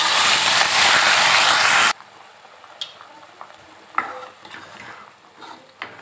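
Ground spice paste hits hot oil in a pan with a loud burst of sizzling, then settles into quieter frying with intermittent scraping and stirring taps.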